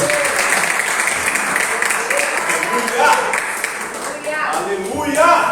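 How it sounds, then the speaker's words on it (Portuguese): A congregation at a Thursday church service claps together in a sustained round of applause, close and lively, while a voice speaks over the clapping. "Aplaude o nome de Jesus."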